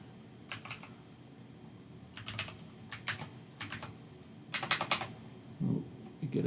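Bursts of typing on a computer keyboard while working in RStudio on Windows 10, several quick clusters of key clicks spread across the clip, close and fairly clear over a faint background hum.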